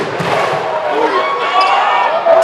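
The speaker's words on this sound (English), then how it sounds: "The Viking clap." A standing volleyball crowd of over four thousand at a Hawaii men's college match performs the Viking clap, a loud, roaring arena sound with a sharp thump at the start and another at the end, spaced slowly apart.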